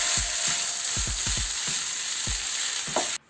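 Vermicelli chowmein with tomato sauce is stir-fried over a high flame, giving a strong, continuous sizzle with a quick series of low spatula knocks against the pan before it cuts off abruptly.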